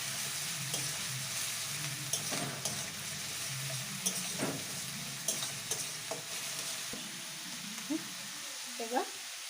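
Onions sizzle and fry in a pan over a high-to-medium gas flame for a thick chicken curry, with a steady hiss broken by repeated scraping stirs of the spoon.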